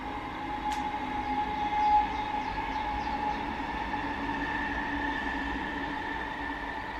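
A train rumbles past at a distance, a steady rolling drone with faint metallic squeals, continuous throughout.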